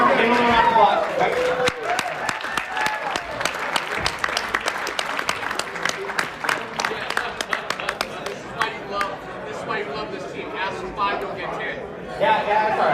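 An audience claps for a volunteer coming on stage, dense steady applause that thins toward the end, with crowd chatter mixed in.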